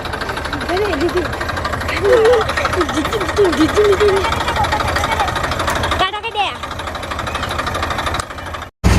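Engine of a tractor driven by someone on a farm where bajra is being carried home, running steadily throughout with a low idling rumble and knocking, under nearby talk and background noise.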